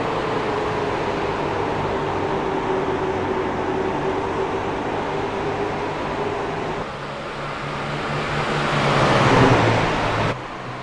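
Racing trucks circling the oval at Phoenix, a continuous loud engine drone with a steady pitch that swells as a truck passes close near the end, under the general roar of the track.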